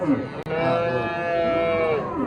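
A Swedish-breed dairy cow at a busy livestock market lows in a long drawn-out call across most of the moment, with market chatter and crowd noise around it.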